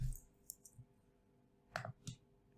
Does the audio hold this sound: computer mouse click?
yes